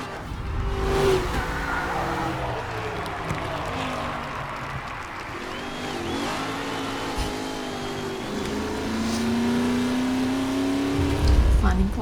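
Race cars in the video game Mafia: Definitive Edition roar past with engine revving, shifting pitch and tire noise, loud and continuous under game voices.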